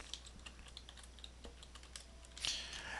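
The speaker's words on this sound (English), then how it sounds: "Now we'll go back to our dashboard, type in some text" Keys clatter on a computer keyboard in a quiet room as text is typed into an Excel workbook: scattered soft clicks, then a denser, louder burst near the end, with no talking.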